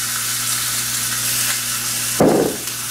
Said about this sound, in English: Now you hear the steak?